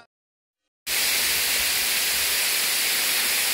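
Steady broadband rushing of flowing water at Tai Tam Reservoir starts abruptly after a brief silence, then continues loud and constant with no voices.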